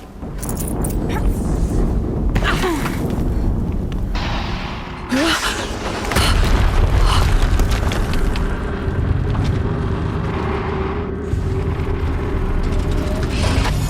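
Explosions boom through the Horizon Zero Dawn game soundtrack, heavy rumbling blasts arriving in bursts over continuous music and effects, with a voice speaking throughout.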